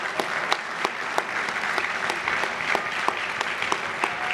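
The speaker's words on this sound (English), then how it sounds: "Let's all give everyone a round of applause tonight." Enthusiastic applause from a room of attendees at the Woodbridge Metro Chamber of Commerce Chairman Awards dinner, sustained clapping with a few sharp individual claps standing out from the steady crowd noise.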